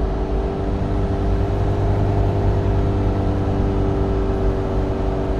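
A VW Caddy van's 2.0 TDI common-rail diesel runs under heavier throttle, a steady dense engine drone with constant hum and no clear rise or fall, close and loud throughout.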